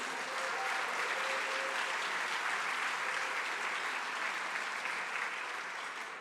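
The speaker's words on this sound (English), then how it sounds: "Can we get another round of applause for them" Audience applause at a community celebration gala, a dense, sustained wash of clapping from many hands that holds steady throughout, with no talking over it.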